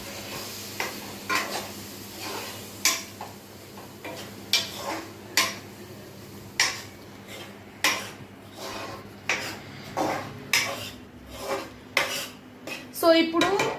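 A spoon stirs tamarind gravy in a metal pot for a fish curry, clinking against the sides in a steady, repeated rhythm of sharp knocks over a soft background hiss, close by.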